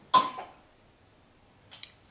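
A sleeping child on a couch nearby gives a sharp cough early on, followed by a fainter second cough in an otherwise quiet room.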